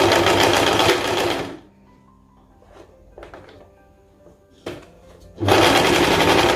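A domestic sewing machine stitches a chemise shirt in loud, steady whirring bursts at the start and end, with a quiet gap of small handling clicks and knocks between them.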